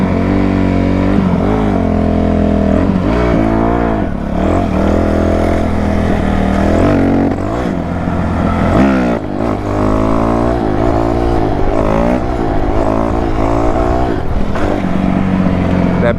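Dirt bikes ride and rev at midnight outdoors, their engines droning loud and close with rising and falling pitch sweeps throughout, one engine note overlapping another without pause.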